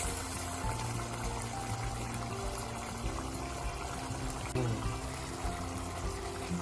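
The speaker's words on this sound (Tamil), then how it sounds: "கிட்டத்தட்ட ஒரு 2-3 நிமிஷமா இது கொதிச்சிட்டுது." Elephant foot yam curry boiling in a pot, a steady close bubbling and churning liquid sound that runs continuously, with a brief louder stir or bump midway.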